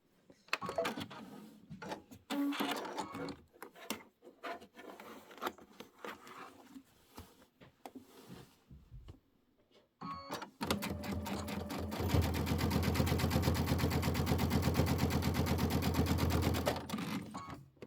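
A sewing machine stitches a quilted pillow top, starting with short bursts of stitching separated by pauses, then running in one long, steady, fast stitch before stopping.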